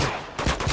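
A quick burst of two or three loud gunshots from the video game Uncharted 2: Among Thieves, close and sharp in a short firefight.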